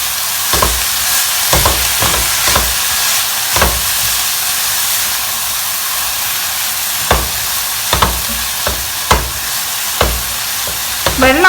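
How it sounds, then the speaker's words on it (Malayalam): Chopped chow chow sizzling with turmeric and salt in a frying pan, a constant hiss of frying broken by repeated sharp scrapes and knocks of a spoon stirring, close and loud, with no talking. "ഇത് നന്നായിട്ട് ഇളക്കി ചേർക്കണം."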